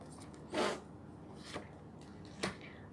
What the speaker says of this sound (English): I will shuffle it one more time.